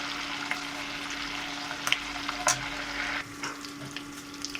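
Brahmi leaf juice cooks in hot oil in a pan, making a continuous bright frying crackle with scattered sharp pops, then a quieter hiss near the end.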